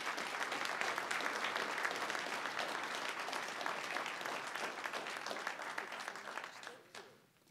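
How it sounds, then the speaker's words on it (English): Sustained audience applause for panelists at a career and industry panel, a dense, even clapping crowd that holds steady before tapering off at the end. "So can we give them another round of applause"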